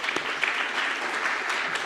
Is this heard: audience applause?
yes